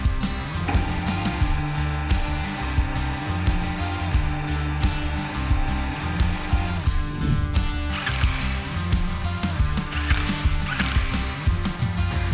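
Ratchet wrench working on a car road wheel during a CV boot repair, a steady continuous run of rapid clicking, close and loud throughout, with no talk.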